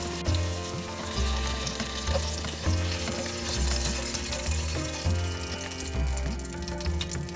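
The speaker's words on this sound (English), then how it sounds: "Fried potato is ready." Potato pieces sizzle loudly in hot oil in a pan for a Bengali fish curry, with a steady crackling fry and a repeating rhythmic scrape of stirring about once a second, close and with no talking.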